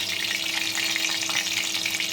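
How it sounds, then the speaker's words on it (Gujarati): Mustard seeds and cumin temper in hot oil in a pan, giving a steady, close, continuous sizzle with no talking. "જેવું તેલ ગરમ થાય એટલે એમાં આપણે રાઈ અને જીરુંનો વઘાર કરશું"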